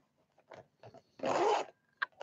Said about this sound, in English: look at the zipper goes both ways